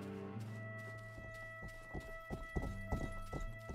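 Horse hooves clip-clopping in the video game Rustler, a steady run of hoofbeats over a droning in-game music bed, moderately loud with no talk.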